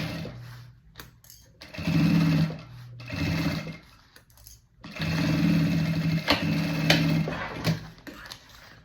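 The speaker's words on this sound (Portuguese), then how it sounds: "vamos passar uma costura de um pezinho de máquina" A sewing machine running a foot-width seam with a half-centimetre presser foot and stitch length 3.5 buzzes close and loud. It runs in bursts of one to three seconds, with brief pauses and small clicks between them.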